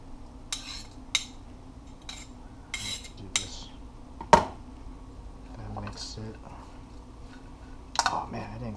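A spoon clinking against dishes and pots while cooking trout outdoors, giving a few sharp scattered clinks and taps, near and moderately loud over quiet background.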